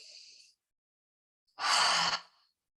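A person takes a side breath during a self-hypnosis exercise: a soft airy inhale at the start, a pause of silence, then a longer, louder breathy exhale, close and alone.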